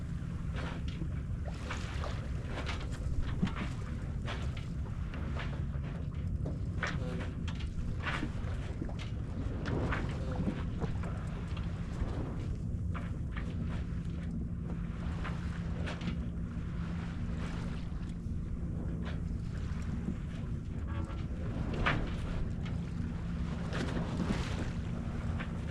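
Steady wind rushing over a sailboat racing in a regatta on Niantic Bay, a constant broadband roar with gusty buffeting on the microphone and a low hum underneath, heard alone without talk.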